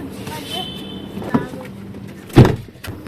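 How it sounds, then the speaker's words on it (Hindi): A household door swings shut with one loud, close thud partway through, after a quieter knock a second earlier, while a family talks nearby indoors. "दरवाज़ा बंद करो बेटा, दरवाज़ा नहीं खोलो"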